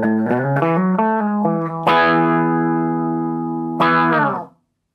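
Electric guitar through a wah pedal parked in a half-cocked position, a few quick picked notes followed by two long ringing chords with a nasal, filtered tone, close and loud.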